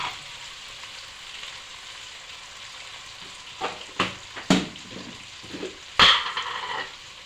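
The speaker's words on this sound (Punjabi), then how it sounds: "ਪਿਆਜ਼ ਭੁੱਜ ਗਿਆ ਵਾ ਹੁਣ ਆਪਾਂ ਇੱਥੇ ਪਾਉਨੇ ਆ ਜੀਰਾ" Cumin seeds hit hot oil with fried onion in a tadka for tamarind kadhi, giving a steady soft sizzle followed by several sharper spits, pops and clatters of stirring, all close and without any speech.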